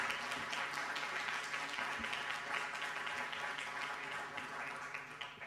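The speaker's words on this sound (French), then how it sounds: "Merci de vous applaudir." Conference audience applauding at the close of an energy and cybersecurity panel session, steady clapping that is fairly faint and distant, continuing evenly throughout.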